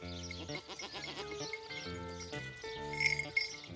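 Several bleats from chained goats on a farm overlap in quick, wavering calls, fairly quiet and close, one after another.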